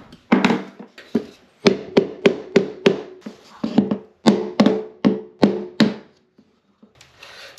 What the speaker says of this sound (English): use the rubber mallet.